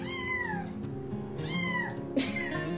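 A parrot imitates a cat's meow, giving two drawn-out, falling meow calls and then a third cry, moderately loud and with no talk.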